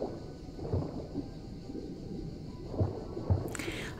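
Thunder rolls during a stormy scene in the video game Dordogne, low rumbles swelling and fading with a few heavier booms over a steady rainy background.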